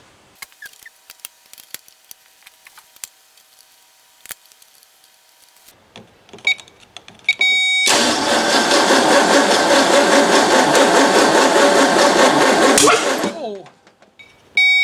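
A freshly rebuilt Ford 390 V8 cranks and catches after a few quiet clicks and knocks, then runs loud and steady for several seconds before cutting off abruptly, close by.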